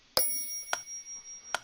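A workout app on an iPad plays a bright bell chime three times, each ring cut short before it fully fades, spaced unevenly over a quiet background with no voices.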